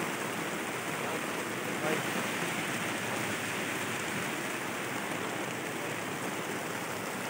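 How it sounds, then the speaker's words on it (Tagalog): Steady rain falls in an outdoor spot as a dense, even hiss of wide noise that runs unbroken throughout at moderate loudness, with a brief spoken exclamation heard once near the start. "Kaso nga lang, nabutan kami ng ulan."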